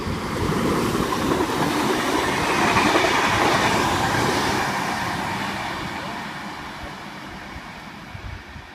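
A Blue Mountains VSET double-deck passenger train passes through a suburban Sydney station platform, a loud steady rumble of wheels and carriages swelling to a peak midway and then fading as it runs on.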